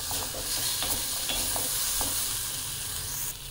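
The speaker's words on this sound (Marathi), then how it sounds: "बारीक गॅसवर छान परतू द्यायचं" Spiced chickpeas (harbhara) for chana bhel are sautéed on a low flame, giving an even, close sizzle throughout with light, regular scrapes of the spatula through the pan. No voices are heard.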